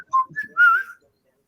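A man whistles a short, deep tune of three or four rising and sliding notes, clear and close with no other sound around it.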